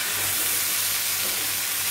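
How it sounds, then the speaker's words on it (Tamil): Small onions sizzle in a hot pan with a dense, even hiss that stays close and continuous, with no one speaking. "இது ஒரு 2 மினிட்ஸ் நல்லா வதங்கட்டும்."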